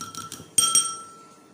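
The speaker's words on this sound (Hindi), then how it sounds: "चलिए हम अंडा मैश करते हैं।" Eggs beaten with a utensil in a glass bowl: a few quick, sharp clinks of metal on glass, ringing briefly before fading.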